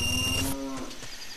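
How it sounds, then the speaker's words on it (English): A cow in The Legend of Zelda: Ocarina of Time gives one loud, drawn-out moo that falls in pitch, heard close and alone with no talk. "What in the hell is that mooing?"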